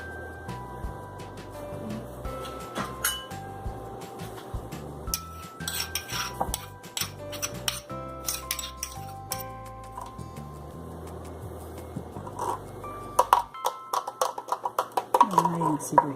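A spoon clinks and scrapes repeatedly against a pot as crushed mustard is mixed into Kerala-style beetroot pachadi, the metallic taps coming in an irregular rhythm throughout, close and fairly quiet, with a voice talking alongside.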